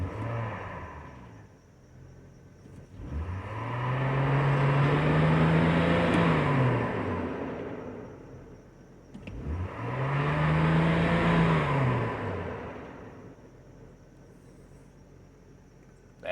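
A 2002 GMC Envoy with the 4.2 I6 engine and a fuel pressure regulator fault revs up twice, each rise swelling into a held roar and then sinking back to a quiet idle.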